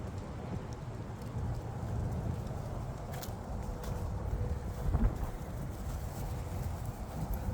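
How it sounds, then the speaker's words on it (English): Steady wind blows outdoors, rumbling and buffeting against the microphone with a constant low roar and no voices. "A little windy out here today."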